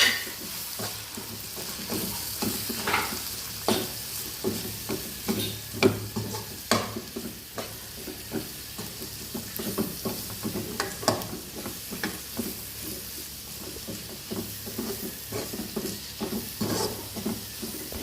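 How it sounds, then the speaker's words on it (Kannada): Mutton fries in oil with garam masala, pepper powder and chilli powder, a continuous sizzle broken by frequent rhythmic scraping and stirring of a spoon in the pan. "ಎಲ್ಲ ಹಾಕಿ ಚೆನ್ನಾಗಿ ಫ್ರೈ ಮಾಡಬೇಕು"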